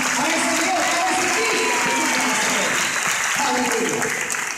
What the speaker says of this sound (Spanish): Un fuerte aplauso para ese Jehová, para ese Dios